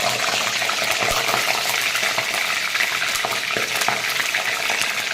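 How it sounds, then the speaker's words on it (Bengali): Marinated gondhoraj chicken frying gently in hot oil, a steady dense sizzle with crackling spatter running loud and close throughout, without talk. "এখন হালকার উপর আমি ভেজে নেব"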